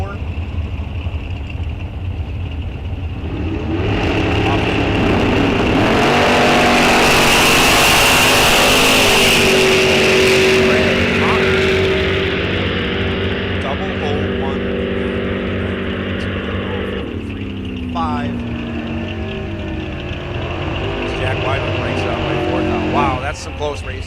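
Drag racing cars launching at Rock Falls Raceway during a bracket series event, a dragster among them: a loud engine roar builds and peaks in the middle, then eases off, with an announcer talking over it throughout.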